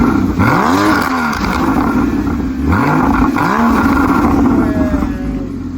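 Porsche Cayman S 981 flat-six engine revving hard with the exhaust valves open, loud and close, with rising and falling roars repeated in several blips over a steady rumbling idle.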